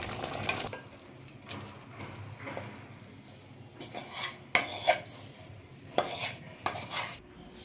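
A spoon scrapes and clatters against a pan while shrimp malai curry with coconut is served over rice, with soft rubbing and stirring sounds and a few sharper clinks of dishes, close up and without speech.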